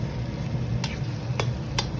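Mushrooms frying with ground curry leaf chukka powder, a steady close sizzle broken by three sharp scrapes of a spoon stirring the pan.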